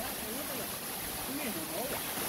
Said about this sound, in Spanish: mire de cascada. 50 metros, señores.